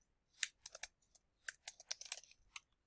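Fingers type on a computer keyboard, quiet close-up key clicks in short irregular bursts with brief pauses between them.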